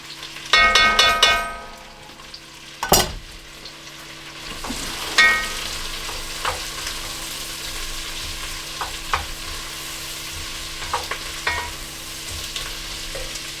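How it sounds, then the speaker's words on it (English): Fresh garlic, a hefty tablespoon, sautéing in butter in a pan for potato ham soup, with a soft steady sizzle, a few stirring clinks and scrapes near the start, then quieter frying with occasional light taps. "gotta be careful when you're sauteing with butter. I've got a hefty tablespoon of fresh garlic here"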